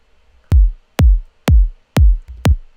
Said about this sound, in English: The kick sample, I think this was a vengeance kick.